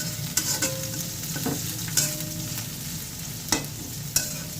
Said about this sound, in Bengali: এখন আমি মাছের জন্য পেঁয়াজ ভাজতেছি।